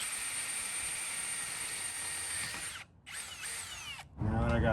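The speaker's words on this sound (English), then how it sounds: "let's get this hole drilled out" A power drill whines steadily while boring a 1/2-inch hole through a truck's steel frame, pausing briefly twice, then a lower rumbling burst as the bit breaks through near the end.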